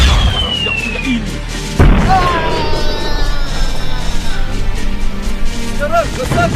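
Cartoon battle scene with mortar blasts and gunfire: dense, loud booms and crashing impacts layered with whistling tones and shouted voices, continuous and chaotic throughout.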